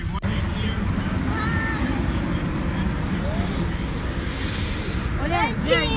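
A British Sea Harrier jet roars steadily at an air show, a loud continuous engine noise with crowd babble and an announcer's voice underneath.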